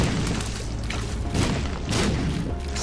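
Green bombs go off in The Binding of Isaac, a continuous run of rumbling, crackling booms with repeated bursts roughly every half second, loud and dense throughout.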